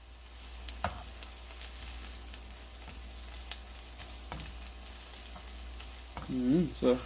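Celery frying in a pan, a quiet steady sizzle with occasional light clicks of a utensil and a brief louder stir near the end, no talk.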